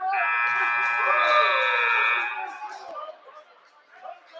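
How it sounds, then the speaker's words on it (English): A buzzer ending a period at a high school wrestling championship, a loud sustained electronic tone lasting about two seconds over crowd chatter, which continues after it stops. "Buzzer sounded before the referee could throw in the pin slap."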